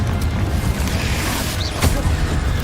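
A Confringo fire spell blast in Hogwarts Legacy lands as a loud, close, booming burst over rumbling combat noise, with a sharper crack partway through.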